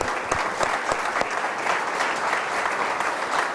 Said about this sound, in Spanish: Estamos a buena hora de poner un aplauso al Señor